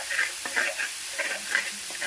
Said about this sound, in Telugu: అన్ని వెజిటేబుల్స్ లైట్గా వేపేసుకున్నాం.